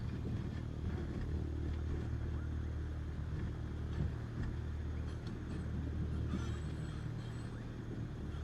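Steady, continuous drone of a Cessna 152 light aircraft engine in the Microsoft Flight Simulator 2020 game, a low rumbling hum held at constant level throughout with no talk.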